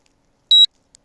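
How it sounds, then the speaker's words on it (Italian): A K911 MAX drone gives a single short, high electronic beep during compass calibration, followed by a faint brief blip, in an otherwise quiet setting. "Sentiremo il primo beep, poi lo mettiamo con il muso all'insù e attendiamo il secondo beep"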